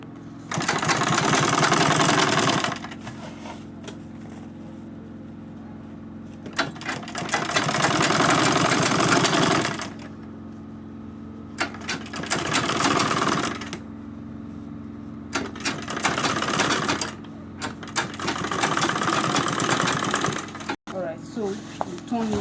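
An electric sewing machine stitches a bag zipper and zip cloth in four loud bursts of steady running, each a few seconds long, separated by pauses with quieter background sound.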